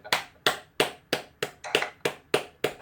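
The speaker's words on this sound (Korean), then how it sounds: "다시 한번 서로를 위해서 감사의 박수 한번 치겠습니다" Participants in an online Zoom forum clap together in thanks. About nine sharp, evenly spaced claps come at a steady rhythm over roughly three seconds, close and clear, with no talking.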